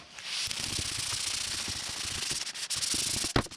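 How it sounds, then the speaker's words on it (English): Steady, close hand sanding of primer on a Suzuki Stockman LJ81 body, a continuous gritty rubbing hiss with rhythmic strokes and a brief louder scrape near the end, no voices. "I'll keep sanding"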